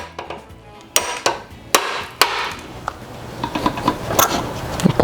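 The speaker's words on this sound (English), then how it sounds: "We're going to take the 1/8 pin punch. We're just going to line this up right on here to the center of the smaller retaining pin. I'm just going to give this thing a nice good whack." Hammer blows on a 1/8 pin punch driving out a small retaining pin during transmission prep for a K24 engine swap in a Subaru BRZ: five or six sharp, close metallic strikes at irregular intervals, with lighter taps and clatter between them.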